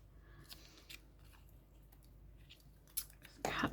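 Scissors snip through paper card while trimming a word for a junk journal, a few sharp close cuts ending in a louder crunching burst, with quiet background between.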